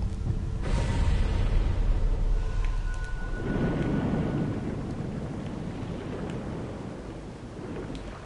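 Lightning strike in the Sekiro video game, a loud broadband crack followed by a rumbling, roaring thunder-like wash that slowly fades, with no talk.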